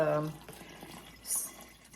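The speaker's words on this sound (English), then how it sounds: "There's the Miralax in there and the solution, and I'm going to start pouring this in" Miralax solution for colonoscopy prep is poured, giving a brief liquid splash at the start, then faint trickling and dripping in a quiet room.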